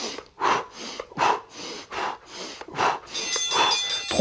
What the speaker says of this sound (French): écoute ma respiration